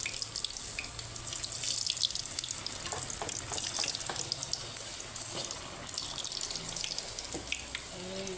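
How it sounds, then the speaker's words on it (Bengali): Palm-fruit malpua batter frying in refined oil: a dense, steady sizzle and crackle fills the whole clip, with a few ladle or utensil taps near the pan and no talking. "রিফাইন অয়েলে ভাজা হচ্ছে।"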